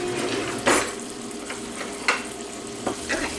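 Nearly two pounds of ground beef cook in a pan with a continuous close sizzle, broken by a few sharp scrapes and clinks as a utensil stirs and breaks up the meat.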